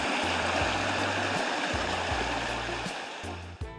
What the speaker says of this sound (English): It's a spring runoff